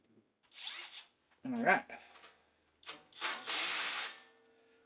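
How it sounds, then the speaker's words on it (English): A cordless impact driver tightens flange nuts and hardware while a Vevor 1200 lb capacity steel welding table is assembled, giving several short whirring bursts of varying length with pauses between, and someone speaks briefly. "I'm gonna grab my impact and we'll tighten all the other hardware down"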